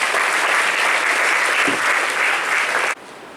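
A crowd at a college of engineering anniversary event claps steadily in sustained applause for about three seconds, then it cuts off abruptly.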